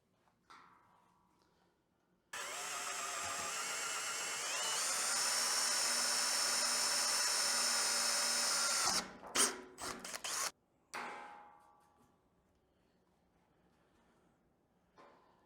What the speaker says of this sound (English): I can't really go back once I start drilling holes.